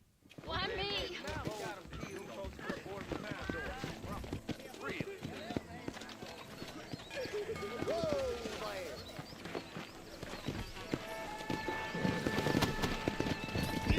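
A horse gallops in the Red Dead Redemption-style western video game, rapid hoofbeats with snorts and whinnies under in-game dialogue and a player talking, with shots and ambient game sound mixed in.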